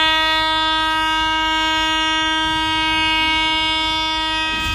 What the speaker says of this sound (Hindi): देखो बैक में ट्रेन जा रहा है, वही अब पास हो गया।